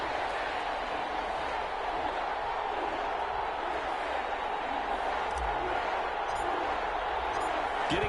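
A stadium crowd roars at a Carolina Panthers versus New Orleans Saints game in an EA Sports NFL video game, as a dense, steady wash of cheering and noise at constant loudness.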